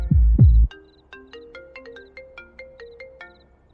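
After a couple of low thumps, a melodic phone ringtone announces an incoming call, its bright repeating notes playing clearly and close with nothing else heard.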